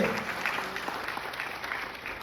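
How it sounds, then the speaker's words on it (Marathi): A crowd claps steadily and loudly at an outdoor political event where the deputy chief minister flags off bullock cart owners, a continuous wash of applause with no break. "यानंतर जोरदार टाळी"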